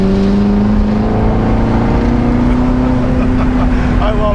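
A Chevrolet Corvette C7 ZR1 engine in fourth gear rolling on from about 2,600 RPM, a loud, steady low drone with rising pitch under cabin noise.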